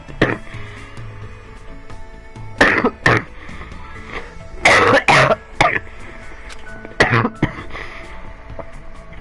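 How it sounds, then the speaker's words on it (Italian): A streamer coughs repeatedly, sharp loud bursts in irregular clusters, some doubled or tripled, separated by quieter pauses close to the microphone. "Non ho mai tossito così tanto in vita mia."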